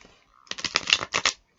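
Impressionist tarot cards shuffled by hand, a quick close burst of riffling flutters in two short runs after a near-silent start.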